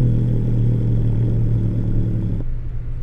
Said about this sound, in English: Here's an angry cat that sounds like a car starting up.